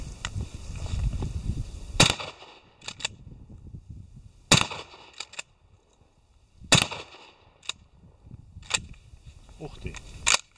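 Tornado bullets from a rifle fire at a target through a bush outdoors, four loud, sharp gunshots spaced a couple of seconds apart, each with a brief echoing tail, amid wind noise and occasional talk.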